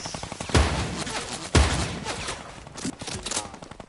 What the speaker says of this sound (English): Talk about the minigun spam!